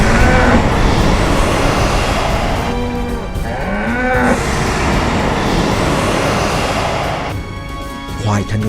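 A magic buffalo gives a deep, drawn-out moo with a rising and falling pitch, loud over a dense rumbling background, while a voice narrates over it.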